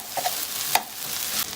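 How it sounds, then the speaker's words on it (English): Tomato sauce sautéing in a pan for Mexican red rice, a close steady sizzle and crackle with a few soft stirring scrapes, no talking. "once you put the tomato sauce and you saute it"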